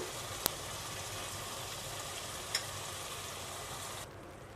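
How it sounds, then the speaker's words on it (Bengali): Pieces of magur catfish sauté in a pan with salt, a faint, even hiss of frying held steady with two brief sharp clicks, ending in a quieter tail; no one speaks. "মাছগুলো দিয়ে আমি খুব ভালোভাবে একটু কষিয়ে নেব"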